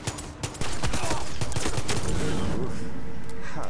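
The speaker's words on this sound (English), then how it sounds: "Hey people, do you want to see my new auto pistol?" Rapid automatic pistol fire in Far Cry 6, a dense continuous stream of loud shots after a brief quieter start, with game ambience mixed in.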